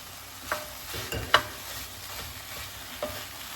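Fresh spinach goes into a hot pan and is stirred, giving a soft continuous sizzle with a few distinct scraping knocks of the utensil, close and alone without talk.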